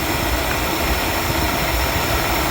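A 1979 Chevy G20 van engine idles with a steady, rough low rumble and dense mechanical noise, close and continuous with no talking.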